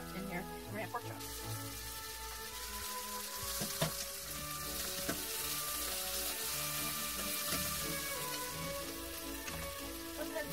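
Pork chops frying in a pan on a stove, a steady soft sizzle throughout with occasional clinks, under a person talking.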